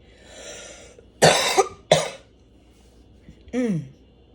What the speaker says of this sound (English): I swear those morning coughs get me every time.